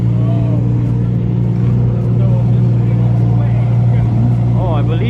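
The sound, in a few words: Lamborghini twin turbo engine starting up at car meet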